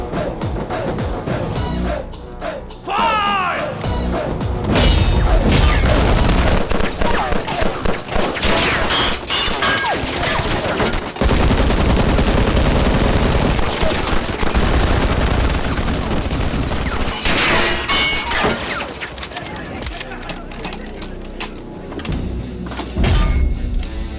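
Sustained bursts of small automatic weapon fire in a Hindi action film, loud and dense with rapid overlapping shots and impacts running through most of the passage, mixed with music and effects.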